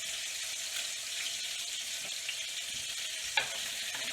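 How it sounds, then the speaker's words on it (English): Onions sauté in butter in a pan with a constant, bright sizzle, close and even throughout, and a single soft knock from the pan or utensil near the end. "the onions are starting to cook very nicely"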